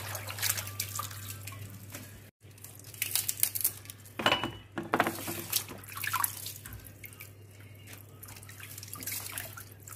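Spinach leaves being rinsed under running water in a basket at a kitchen sink, a steady splashing flow with crinkling leaf sounds and occasional drips, close and continuous throughout.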